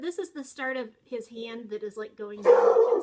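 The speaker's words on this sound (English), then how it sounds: "Sorry about the barking dog." A dog barks a few times in the background near the end, while a person talks continuously in the foreground.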